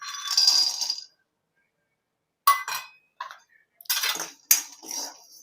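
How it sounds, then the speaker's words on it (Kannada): Peanuts tossed into a pan for tomato chutney, giving a few separate bursts of rattling, clinking scatter close by, with silent gaps between them. "ಈಗ ಕಡಲೆ ಬೀಜ ಹುರ್ಕೊಳ್ಳೋಣ."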